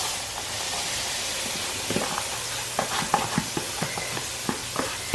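Vegetables hit a hot roux in a skillet for Louisiana gumbo, giving a broad steady sizzle, with sharp scraping stirs recurring every few tenths of a second in the second half.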